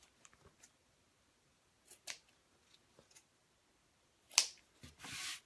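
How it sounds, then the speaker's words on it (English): Scissors trim the corners of sewn fabric bag pieces, giving quiet scattered snips and small clicks, then one louder crisp cut and a brief rustle near the end. "I'm just going to trim the corners on these just a little bit"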